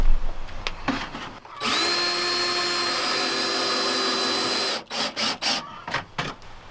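A power drill drives a screw fitted with a small and a large washer into a homemade chicken nest box, whirring steadily for about three seconds. Short bursts of drilling and quiet knocks follow.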